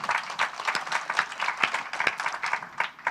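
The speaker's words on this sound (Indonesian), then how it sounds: "Berikan tepuk tangan buat Tuhan." A church congregation applauds its God during a Pentecostal sermon by Pastor Niko Njotorahardjo, with steady, dense clapping from many hands filling the space and no speech over it.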